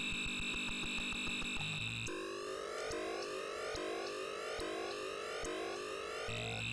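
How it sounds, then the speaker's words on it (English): A raw electronic motorbike engine tone from the 1983 ZX Spectrum game Deathchase buzzes continuously, repeatedly sweeping upward in pitch like gear shifts, synthetic and harsh. "when a game is playing a continuous sound like this motorbike noise"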